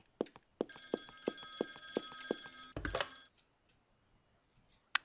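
A telephone in the game Follow the Darkness ringing with a rapid, steady pulsing bell trill for a few seconds, then cut off by a clunk and followed by quiet, no talk.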